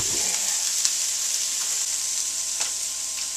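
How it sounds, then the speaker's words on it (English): Strips of venison fry in a pan with a steady, close sizzle and crackle, a few sharper pops standing out over the hiss. "Straight up fry strip of it"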